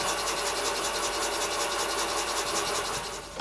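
A boring machine makes a rough cut in a Ferrari 308 cylinder liner, a continuous harsh, gritty metal-cutting rasp with a fast fluttering texture, loud and close, trailing off at the end without speech.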